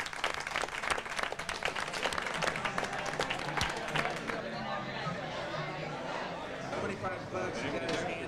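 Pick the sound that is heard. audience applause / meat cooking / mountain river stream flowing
audience applause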